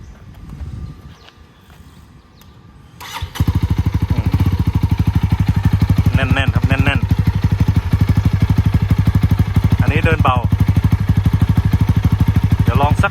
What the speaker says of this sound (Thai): ลืมไปเดี๋ยวฟังเสียง ฟังเสียงท่อ